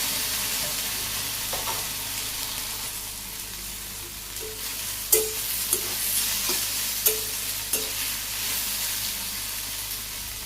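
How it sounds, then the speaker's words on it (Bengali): Okra frying in a pan on a village stove is stirred with a spatula, a steady soft sizzle broken by several distinct scraping knocks at an uneven pace, close and fairly quiet, with no talk. "ভাজি নাড়াচাড়া করে ভাজি করে দিতেছি, অর্ধেক ভাজি হয়ে গেছে।"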